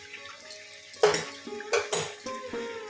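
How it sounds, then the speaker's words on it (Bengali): Chicken braising in a pan is stirred with a metal utensil, giving a few sharp, irregular clanks and scrapes against the pan over a quiet background. "কিছুক্ষণ এরকম করে নাড়াচাড়া করে কষিয়ে নেব।"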